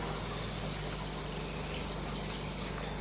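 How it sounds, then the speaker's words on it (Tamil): Continuous rushing water pouring steadily into a cooking pot, a close, even gush with no talk. "இப்போ நம்ம ஒரு மூன்றரை கிளாஸ் அளவு நம்ம தண்ணி சேர்த்துக்கலாம்"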